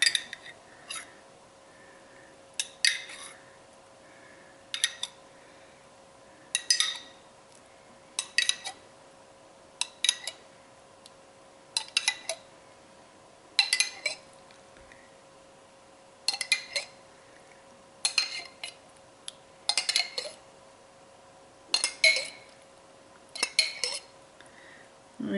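A spoon clinks against a jar while tomato sauce is spread on a feta tomato pizza. Sharp, close metallic taps come in irregular clusters, with quiet gaps between them.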